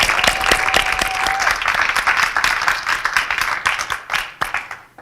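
A gathering of a spiritual community claps in a round of applause for a performer, loud and close at first with a brief tone underneath, then thinning into scattered separate claps as it fades.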